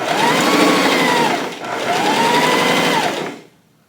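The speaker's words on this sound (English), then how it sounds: "So I'm just gonna go ahead and sew this up" A sewing machine stitching fabric for an apron runs in two long continuous bursts with a brief pause between them. The whirring motor is close and loud, then cuts off near the end.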